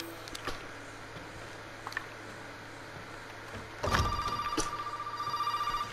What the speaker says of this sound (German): Okay, Telefon.